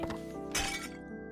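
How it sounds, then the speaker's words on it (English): Porcelain teacup slipping and shattering on the floor, a single sharp crash of breaking ceramic with a bright ringing tail that fades quickly, heard over a soft musical background. "It was the sound of the porcelain breaking on the floor."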